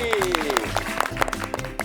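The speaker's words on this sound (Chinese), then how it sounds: "给我们现场的爸比们还有小朋友们掌声鼓励鼓励" Studio audience applause on the family TV show Dad, I've Got You, a crowd of dads and children clapping steadily for about two seconds, with a falling tone sweeping underneath at the start.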